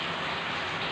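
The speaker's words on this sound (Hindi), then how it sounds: "बहुत तेज बारिश हो रही है" Heavy rain falling, a dense steady hiss of drops close by and fairly loud, with no gaps.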